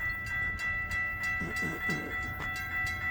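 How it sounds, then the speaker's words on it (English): Train rolling through a railroad crossing, a steady low rumble with rhythmic clicking of wheels and a sustained tonal ring from the crossing gates, heard from nearby without talk. "I'll film the train"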